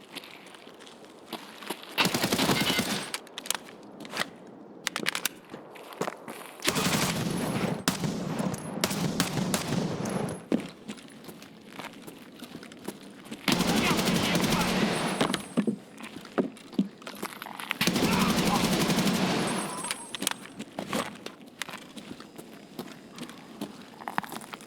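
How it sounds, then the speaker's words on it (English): Gunfire from the video game Arc Raiders comes in several loud bursts of rapid shots separated by quieter stretches of footsteps and movement, with no voices. "the echoing report of a lone gunshot"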